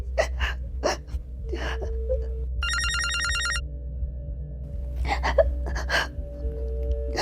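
A telephone rings in one short electronic burst amid gasps and sharp breaths nearby.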